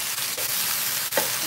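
A beef rib sears in a hot pan with a dense, steady hiss, close and loud, broken by a couple of brief clicks or taps; no voices.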